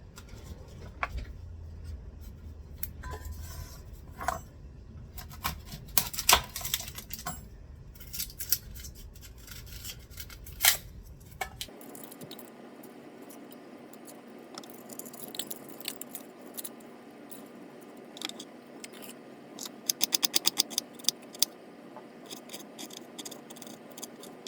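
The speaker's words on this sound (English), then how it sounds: "The onion is roughly chopped." Onions roughly chopped with a knife on a cutting board for potato and leek soup, a run of close, crisp irregular cuts with a sharper burst of quick chops near the end.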